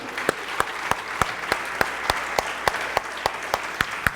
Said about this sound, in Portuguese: Dá um forte aplauso a Ele, em pé.